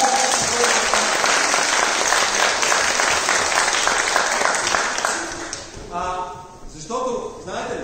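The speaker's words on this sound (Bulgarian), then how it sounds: "Петя, аплодисменти за Петя, който е много." A live audience at a theatre presentation claps in a dense burst of applause for about five seconds, then it fades as a voice begins speaking.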